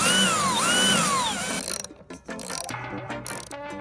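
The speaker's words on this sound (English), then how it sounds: "Let's put these screws in." Screws being driven into the base plate of a homemade snowboard, beginning as a steady rising and falling power-driver whine, then breaking into short ratcheting clicks and mechanical bursts, close and loud with no talking.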